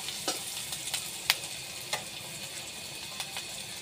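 Curry for rui fish with potato and pointed gourd frying in a pan, a soft, steady sizzle broken by a few sharp clicks and scrapes of stirring.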